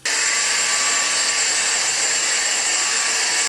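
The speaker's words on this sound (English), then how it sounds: "I need to probably vacuum off. Hold on, let me get my vacuum." A Dyson vacuum cleaner runs loud and close indoors, a steady high whine held for several seconds before cutting off.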